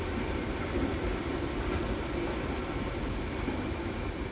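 Passenger train running on a West Country line, a steady rumbling roar of wheels and carriage noise heard from inside, continuous and moderately loud with no talk.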